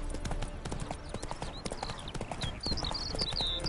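Quick rhythmic clip-clop of horse hooves trotting in the video game The Witcher 3, with faint birdlike chirps and a low voice murmuring underneath.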